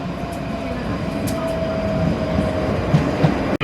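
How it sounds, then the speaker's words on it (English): A train at Westerton station, the junction for Milngavie, rumbles steadily close by as it pulls away, a continuous low roar with faint rail clicks and a brief thump near the end. "I've just arrived on the train from Milngavie, and now it's going to go."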